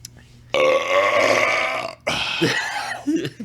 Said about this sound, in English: Power belch.